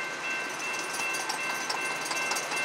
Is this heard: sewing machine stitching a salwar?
no